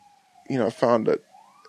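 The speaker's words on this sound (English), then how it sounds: "Hear that siren?" A faint police siren wails in the distance, its tone rising and falling as a person speaks a few words over it.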